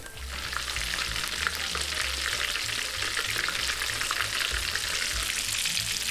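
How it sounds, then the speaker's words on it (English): Shrimp frying in neutral oil give a loud, steady, dense sizzle that runs unbroken throughout, with no voices. "So I'm gonna start frying them a couple of times, maybe like 4 or 5."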